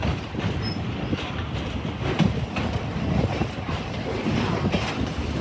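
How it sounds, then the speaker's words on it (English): Continuous rumbling and clattering of an 1873 coal-fired steam locomotive, the Torchlake, pulling a train at Greenfield Village, with rhythmic chugging under wind noise and no voices. "It's a coal-fired steam engine built way back in 1873"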